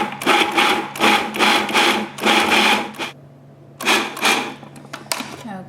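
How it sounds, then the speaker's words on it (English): A small food processor pulses pine nuts in four or five short, loud whirring bursts separated by brief pauses, with a person talking between pulses. "we've got our fancy little processor here. Pulse it."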